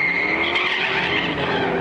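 A race car at a drag racing track roars loudly and continuously with squealing, skidding tires, a dense close-up burst of engine and tire noise.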